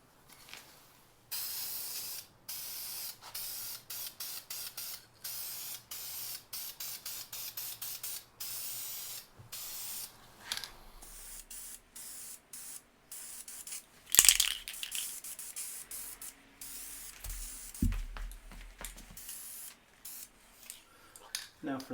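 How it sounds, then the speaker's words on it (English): Aerosol spray coating being applied to a part of a 1940s Preway P4522 stove, a rapid series of short, close hissing bursts followed by sparser sprays and a few handling knocks. "This we spray on, and then once it's dried, it requires curing in the oven"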